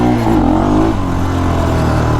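A Scrambler motorcycle engine roars loud and close, rising in pitch as the throttle opens, then holding a steady, rough mid-range drone.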